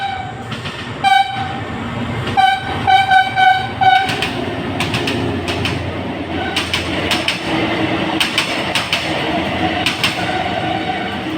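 A train rumbles steadily past for the whole stretch, wheels clattering over the rails, with a few bright whistle-like tones early on and chirping birds in the background.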